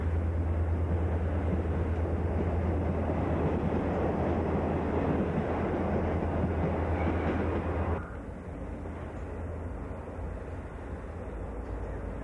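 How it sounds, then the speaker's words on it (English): An Australian A class locomotive heading west, a steady loud rumbling roar with a clattering rail texture as it passes nearby, then dropping away to a quieter continuing hum and wind. "It's an A class loco heading west."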